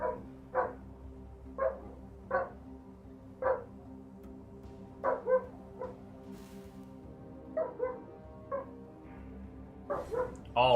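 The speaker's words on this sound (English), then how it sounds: "dog's barking." A dog barking in short, sharp bursts, roughly a dozen barks in an irregular rhythm, some in quick pairs, moderately close over a quiet background.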